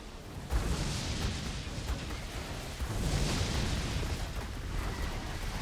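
Repeated explosions in the video game ARK: Survival Descended form a dense, continuous rumble of booms and bursts at moderate volume, with no talk over them.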